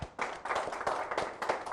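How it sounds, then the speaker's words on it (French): A small audience claps in quick, uneven bursts, close and moderately loud, a short stretch of applause with no voices over it. "Applaudissez pour vous-même"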